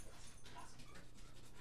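A dog pants and whimpers in the background at low level, a steady breathy panting running throughout alongside faint household noise.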